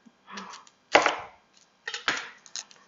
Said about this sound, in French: On va couper notre oignon.